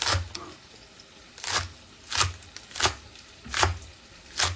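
Knife slicing spring onion leaves thinly on a board, five or six crisp evenly spaced chops close up, with no talking.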